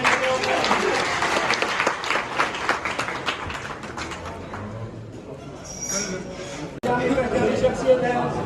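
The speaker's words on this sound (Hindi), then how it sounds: "आप लोग भरपूर तालियों में इनका स्वागत करेंगे" Audience applause welcoming a guest at a centenary ceremony of a medical college in Bahawalpur, a crowd clapping loudly for several seconds before it thins out, with chatter mixed in.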